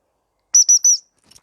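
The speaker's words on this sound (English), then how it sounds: "And I will get my whistle." Three sharp, high-pitched whistle blasts in quick succession, loud and close, followed by silence and a few faint small sounds.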